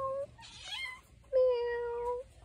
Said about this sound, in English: Guess who just came out and is meowing?